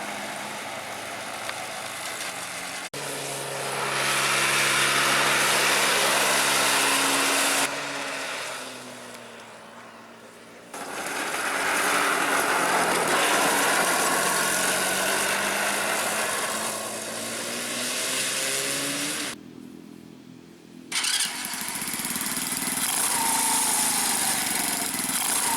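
A homemade go-kart's small engine runs and revs on a track, its sheet-metal floor rattling along. The engine note drops out twice in short gaps. It is loud and close, with no talk.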